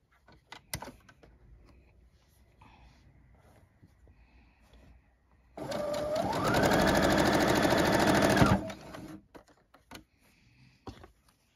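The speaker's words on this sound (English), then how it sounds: "Then we'll sew the big one." A sewing machine stitches quilt block pieces together in a steady, rapid run of about three seconds, up close, with light handling clicks before and after.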